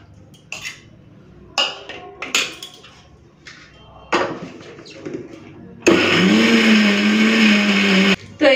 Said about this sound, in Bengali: অল্প অল্প দিয়ে বেটে নিই।